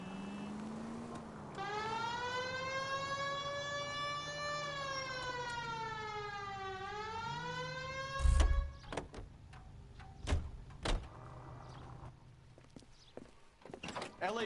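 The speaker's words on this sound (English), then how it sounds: "Hit the siren." A police car siren in the L.A. Noire video game wails in long rising and falling sweeps, loud and close, then cuts off into thumps and clatter.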